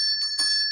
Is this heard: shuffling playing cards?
no